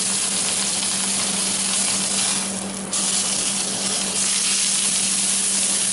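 Duck breast sizzles skin-side down in a hot pan, a steady close frying hiss that dips briefly midway before resuming, with no voices.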